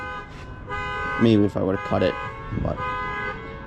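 A car alarm at a scrap yard blares steady, harmonic tones in the background while someone talks close over it.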